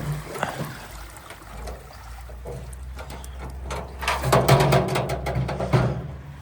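Water trickles and splashes out of a tipped-over can on a snowy day in a garage, a steady light pour that swells louder toward the end, close and unaccompanied by talk.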